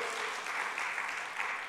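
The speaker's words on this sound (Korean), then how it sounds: "은혜 주신 하나님께 영광의 박수, 영광의 박수." A church congregation claps steadily during a Sunday worship service, a dense, even wash of applause that stays loud and unbroken throughout.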